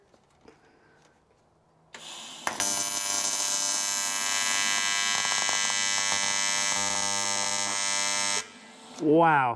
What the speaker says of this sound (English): So I've had to do a reset on this welder. Due to that, you can hear the frequency is crazy.